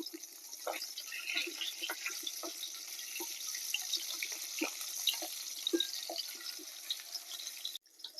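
Katla fish pieces fry lightly in hot oil, giving a close, continuous crackle and sizzle with scattered pops, cutting off abruptly near the end.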